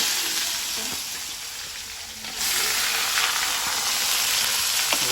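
Onions hiss and crackle in hot oil in a home kitchen pan, tossed in just after curry leaves; a steady close sizzle that swells louder partway through, with faint stirring clinks.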